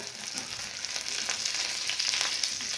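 Stuffed green chillies fry in a covered pan, a soft, continuous crackling sizzle with small sputters, fairly quiet and close, with no talk.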